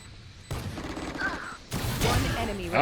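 Rapid gunfire from the tactical shooter game Valorant during a tournament final, with bursts of shots over loud game action and busy in-game sound effects.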